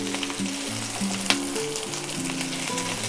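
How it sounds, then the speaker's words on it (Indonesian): Chopped onions sauté in a hot pan with a continuous, close sizzle and an occasional stirring clink, while soft background music plays. "Saya masukkan bawang bombay yang sudah dipotong-potong, ditumis-tumis lagi sampai bawang bombaynya layu ya."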